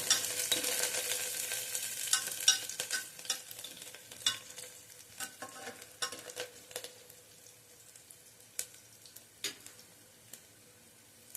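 Coriander sautéing in a tempering for whole masoor curry, a faint sizzle with a scattering of soft spoon scrapes and taps against the pan, quiet and close with no talk.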